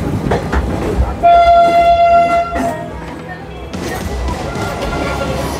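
The Darjeeling Mail train rushes past with a long, loud horn blast followed by rumbling wheels and rattling carriages, close by and fading after the pass.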